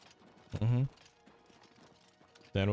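Horse hooves clip-clop in short bursts at close range in the game Oblivion Remastered, mixed with game noise and a brief voice between them.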